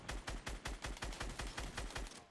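Rapid automatic gunfire in the video game Fortnite, during a Blitz mode match at Tilted Towers: about ten sharp, evenly spaced shots over two seconds, loud and close, with no talking.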